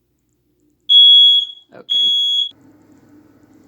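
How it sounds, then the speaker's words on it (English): A smoke alarm gives two loud, piercing electronic beeps, each about half a second long, very close, during a candle spell with an orange candle burning. A brief spoken word falls between them and a low hum follows. "sorry about the fire alarm going out"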